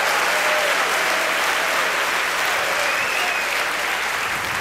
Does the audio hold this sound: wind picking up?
no